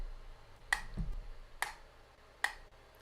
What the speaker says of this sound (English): So this metronome click, I'm going to turn it to about 72.